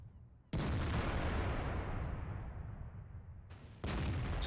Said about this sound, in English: And finally we land a shot on somebody.